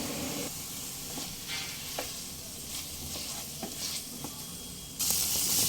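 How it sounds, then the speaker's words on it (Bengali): Chicken pieces fry in a pan over medium flame, a dense continuous sizzle with scraping stirring strokes recurring every second or so, the hiss rising louder near the end, no voices. "চিকেনটাকে নেড়ে ফেড়ে ভেজে নিতে হবে এইভাবে"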